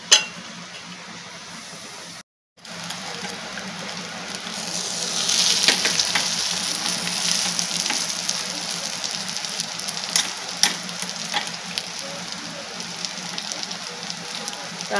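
Bun dosa filling with Kashmiri chili powder is sautéed in an oiled pan, producing a continuous close frying hiss. It briefly cuts out early, then returns louder with crackling pops.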